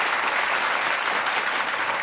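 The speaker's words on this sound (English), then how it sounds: "Some applause for you." Dense, even applause from an audience at a conference event, a wash of many hands clapping together at steady volume for about two seconds, without speech.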